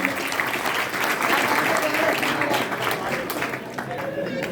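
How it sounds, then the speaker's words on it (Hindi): Audience applause at an open-air Hindi poetry gathering held under a village Ganesh festival committee, a sustained crowd clapping that stays fairly loud before easing off slightly, with a voice talking over it. "तालियां कमजोर है आपकी भैया।"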